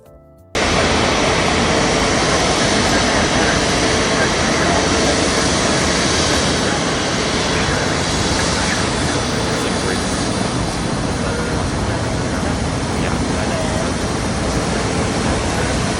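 A Delta Airbus A350 airliner taxis at Atlanta's airport, its engines giving a steady, loud, broadband roar that stays constant from just after the start to the end, with no talking.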